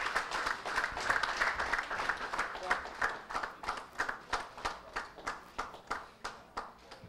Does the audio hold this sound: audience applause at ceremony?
yes